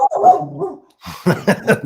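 A dog barks close and loud, first a drawn-out whining bark, then after a short pause a quick run of several sharp barks.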